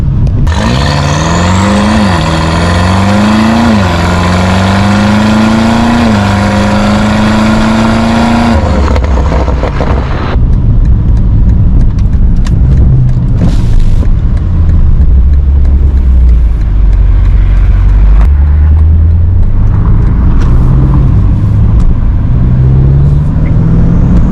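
A loud dyno-tuned BMW M5 with an S63 engine revs up through several gear changes on the street, pitch climbing and dropping with each shift, then settles into a lower rumble with more acceleration.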